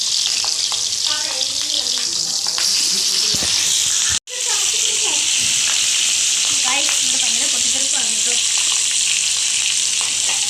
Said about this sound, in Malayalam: അപ്പം നമ്മളെ ചിക്കനൊക്കെ ഫ്രൈ അടിക്കാൻ പോവാണ്